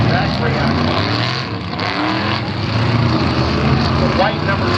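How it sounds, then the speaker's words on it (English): A white 1927 Curtis Craft vintage race car, number 750, heading down into turn 1 in a vintage race, its engine drone heard from the stands at a moderate distance under a voice talking throughout. "The white number 750 going down into turn 1 is a 1927 Curtis Craft vintage race car"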